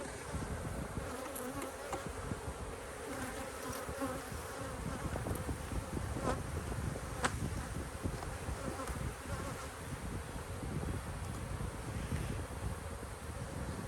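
Honey bees buzz steadily and densely around an open hive at an apiary during a split inspection, a close, continuous drone with no talk over it.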